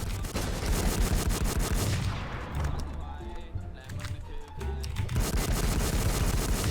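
Machine gun fire rattles in rapid bursts in the online shooter Infestation, loud at first, thinning in the middle, then returning, while players talk excitedly over it.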